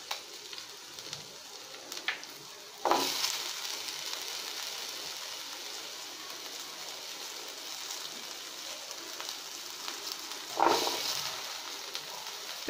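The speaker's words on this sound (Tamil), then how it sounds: "கூட 2 பச்சை மிளகாய் கீறி வச்சுருக்கிறேன். அதையும் சேர்த்து நல்லா வணக்கிக்கலாம்." Shallots and slit green chillies sautéing in a pan for a Kerala coconut-milk fish curry, a steady soft sizzle throughout, with two brief louder bursts of frying as the pan is stirred.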